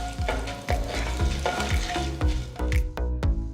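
Urad dal, mustard seeds and cumin fry in a tablespoon of oil in a wide kadai, with a busy sizzle and repeated scraping stirs of a spoon against the pan and no voices.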